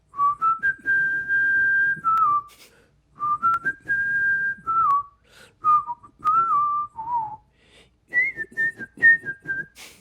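A person whistles one of their own songs, a clear melodic tune of sustained and sliding notes in phrases with short pauses, close and alone.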